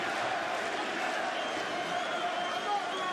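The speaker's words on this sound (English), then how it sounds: "Boston crowd getting behind the champion Stipe Miocic" A Boston arena crowd roars steadily for heavyweight champion Stipe Miocic during his UFC fight against Francis Ngannou, a dense, continuous swell of cheering with a commentator talking over it.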